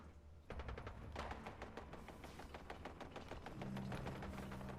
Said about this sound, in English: I hear gunshots out here